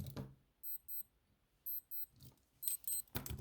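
Alarm on a Casio ProTrek 240 wristwatch sounds in a series of short, high electronic beep bursts in pairs and triples, fairly faint and close, with some handling noise between them.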